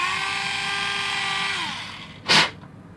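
A small power drill whines at a steady pitch while slowly boring into a 1/64 scale diecast car, then winds down and stops, followed by a brief sharp burst of noise.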